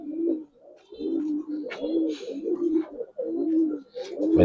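Pigeons coo close by in low, throaty, rolling calls that overlap almost continuously, with a few brief pauses and faint rustling between them.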